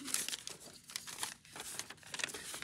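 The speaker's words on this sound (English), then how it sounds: "I got a piece of phone book paper right here." A sheet of thin phone book paper being handled and crinkled up close, a continuous soft rustling and crackling with small irregular bursts, quiet and with no talk.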